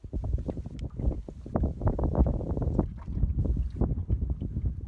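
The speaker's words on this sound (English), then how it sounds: "It's too windy." Gusty wind buffets a microphone aboard a fishing boat on open water during a Canadian fishing trip, with irregular low rumbling bursts and flutters at a moderate level and no talking.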